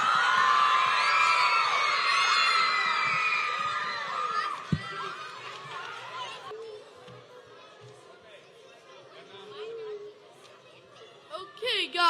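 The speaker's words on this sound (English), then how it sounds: "Round of applause for Maya" Loud cheering, whoops and children's shouts from a concert audience at a spring concert, dense for several seconds and then fading into scattered chatter and a few shouts.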